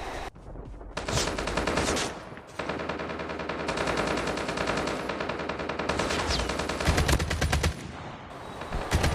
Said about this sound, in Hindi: मुझे आगे से बिल्डिंग से फायरिंग की आवाज़ आने लग जाती है